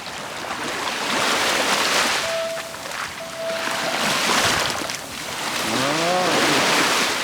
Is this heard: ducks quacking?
no